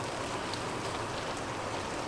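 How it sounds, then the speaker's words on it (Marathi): Continuous rain during a monsoon ride in the Konkan region, an even, dense wash of falling rain with no breaks or other sounds. "कंटिन्यू पाऊस चालू आहे."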